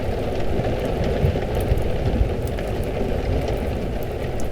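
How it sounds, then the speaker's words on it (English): Indoor rain ambience from the video game Vintage Story: a steady, dense patter of rain on a roof, heard from inside, with a continuous low rumble and scattered drips, alone and even throughout. "the best one is the indoor rain ambient sound"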